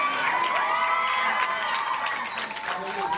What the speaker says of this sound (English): by the way you guys are laughing and clapping and all that good stuff